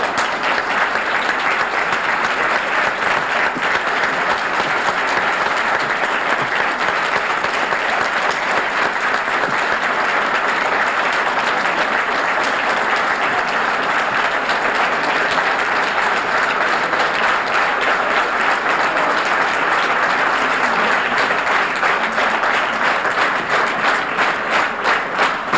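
Audience applause after a speech on the West Bank uprising, steady dense clapping from a large crowd that holds evenly throughout.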